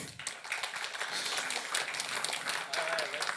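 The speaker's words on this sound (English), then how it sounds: "Give a huge round of applause to Hugo, please" An audience claps and applauds after a talk on AI and deep learning, a dense, steady patter of many hands in a hall, with a voice faintly audible within it.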